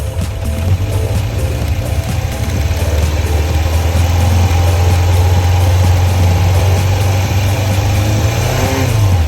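A carbureted engine, just synchronized, runs steady and loud through the whole stretch, a continuous low drone with only slight swells in revs and no audible stumbling.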